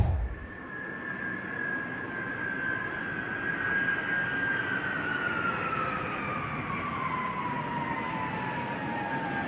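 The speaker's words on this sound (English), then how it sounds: "We're bringing this airplane here. It's its last flight." A retired Air Force cargo airplane on its last flight roars steadily with a broad engine rumble, and a sliding high whine slowly falls in pitch as it passes, loud and sustained, with no voices.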